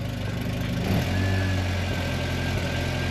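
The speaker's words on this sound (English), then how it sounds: "It works when the engine's running." A Talbot Express van's engine idles steadily, a loud continuous low rumble with a constant drone and no voices.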